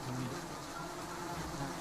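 Honey bee colony buzzing in alarm, a dense continuous drone of many wings that holds steady at moderate volume with no gaps, and no voices.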